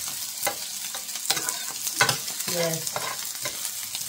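Garlic and onion sizzle in virgin olive oil in a pan, with repeated scraping stirs of a utensil; one brief word is spoken.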